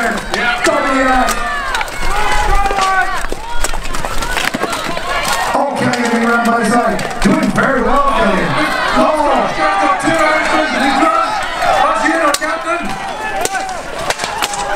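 Spectators cheer and shout loudly and continuously at a 5v5 medieval armoured combat championship, with a voice calling over the crowd throughout.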